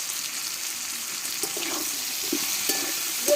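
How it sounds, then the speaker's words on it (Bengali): Potato curry with salt, turmeric, chopped tomato and green chilli sizzles in a pan under a constant hiss, with a few soft scraping stirs breaking through near the end. "একসঙ্গে একটু নাড়াচাড়া করে নেবো"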